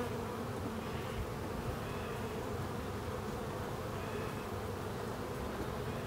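Buckfast honey bees buzzing at an open hive, a dense continuous hum of many wings, fairly quiet and steady with no voices.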